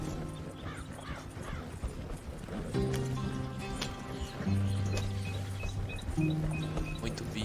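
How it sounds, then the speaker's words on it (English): Wild horses in Red Dead Redemption 2, steady clip-clop of hooves with low neighs and whinnies, under a game music bed, no talking. "Os cavalos selvagens."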